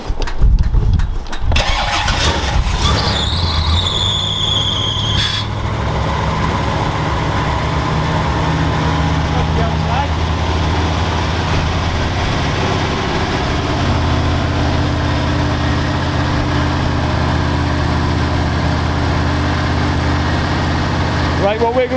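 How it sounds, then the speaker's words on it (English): A V8 engine in a roof-chopped Ford Consul hot rod cranks and fires up, then settles into a steady, rumbling idle that runs loud and continuous, with a brief whine early on. "Dale, I know this car normally just fires straight up."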